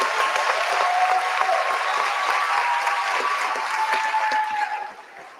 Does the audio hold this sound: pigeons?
no